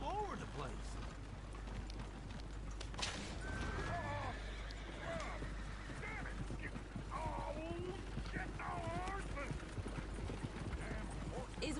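Horses in the Red Dead Redemption 2 video game whinny and neigh several times over steady clip-clopping hooves, with game voices talking throughout and a continuous background bed.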